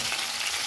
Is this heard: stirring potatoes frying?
yes